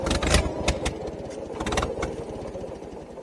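An International 300 tractor with a carburetor needing adjustment, its engine chugging unevenly at close range with rough firing pulses and sharp bangs early on.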